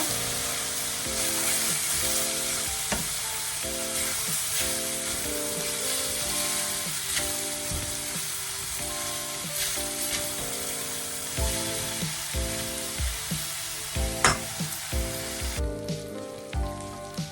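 Risotto rice, 400 grams, fries in a hot pan with a steady sizzle, and stirring scrapes and taps come in rhythmic bursts that grow more distinct toward the end, with no voices.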